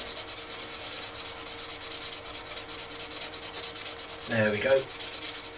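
A wooden pen blank is sanded on a lathe to remove scratches, giving a fast, even, rhythmic rasping that keeps going steadily at close range, with someone speaking briefly near the end.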